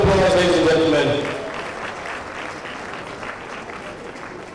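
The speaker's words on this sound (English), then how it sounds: "Let's give her a big round of applause, ladies and gentlemen." Applause from an audience at an awards ceremony, loud at first with voices mixed in, then settling into a softer, steady patter of clapping that trails off.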